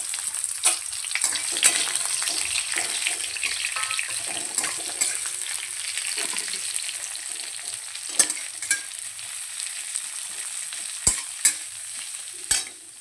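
Two medium onions, finely chopped, fry in a pan for a ridge gourd dish. A close, steady sizzle runs under stirring scrapes, and sharp spatula knocks land near the end, with no talking.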